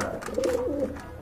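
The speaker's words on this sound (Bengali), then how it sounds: "এখানে কিন্তু আর এক জোড়া কবুতর আছে ভাই" Pigeons in a breeder's loft coo close by, a short low rolling warble lasting about a second over light background noise, no talking.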